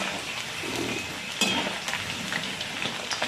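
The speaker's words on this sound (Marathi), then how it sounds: "आता थोडीशी गॅसची फ्लेम मी मीडियम करते आणि याला तळून घेते" French fries deep-fry in hot oil over a medium gas flame, giving off a steady soft crackling sizzle with occasional louder pops, without talk.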